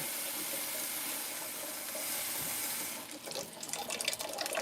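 Water pours from a kitchen sink tap at breakfast time, a steady hissing rush that changes to a more splashy, uneven flow partway through, close and fairly loud.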